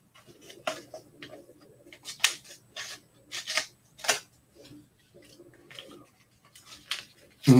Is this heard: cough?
no